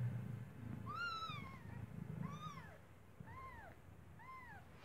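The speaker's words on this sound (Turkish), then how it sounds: "Miyavlıyor sürekli." A newborn kitten gives four thin, rising-and-falling meows at close range, spaced about a second apart, over a low background rumble.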